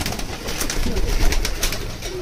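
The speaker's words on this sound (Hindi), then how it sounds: "रामपुरी कबूतर है, अच्छी क्वालिटी के कबूतर है" Rampuri pigeons cooing close by at a pigeon sale in Kathua, Jammu, in a continuous, layered murmur of soft throaty calls, with rustling and flutter mixed in.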